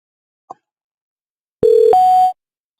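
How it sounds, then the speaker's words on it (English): A softphone client dials a group paging extension: a faint click, then two steady call-progress tones in succession, a lower one followed by a higher one, clear and close with no talk. "I will dial my paging group extension."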